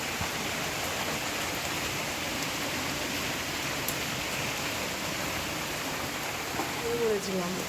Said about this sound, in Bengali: এক নাগারে বৃষ্টি হয়ে যাচ্ছে